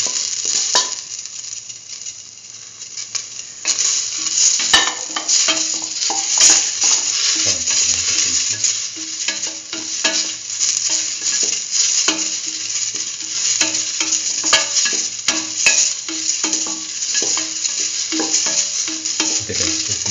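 Tomato pieces sizzle and fry in a pan for a curried mustard lentil stew while being stirred, with a steady bright hiss and scattered scraping and clinking of the spoon against the pan.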